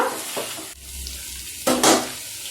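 Ivy gourd frying in a pan while being stirred, with scraping bursts of the spoon against the pan over a soft sizzle and a short quieter gap between strokes.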